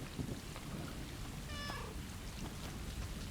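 A cat meows once, a short mid-loud call, in the video game Stray, set against a constant wash of rain and rumbling storm-like ambience.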